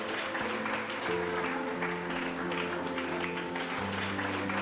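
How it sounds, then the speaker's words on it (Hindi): An audience at an IAS coaching seminar applauds, steady crowd clapping under a sustained musical tone and low hum, with no talk on top. "तो सभी के लिए एक जोरदार तालियां हो जाएं।"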